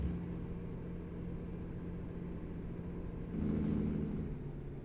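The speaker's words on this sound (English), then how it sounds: "It has a nice engine, as you can hear." A truck engine in American Truck Simulator drones steadily, then grows louder and rougher near the end as it revs up, heard alone without talk.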